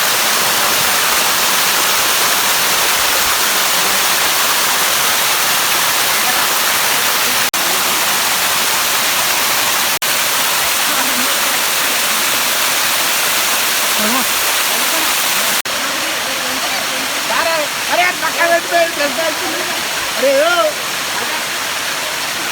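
Waterfall at Ananthagiri Hills near Vikarabad roars in a loud, dense, unbroken rush of falling water; near the end, voices talk faintly under the constant roar.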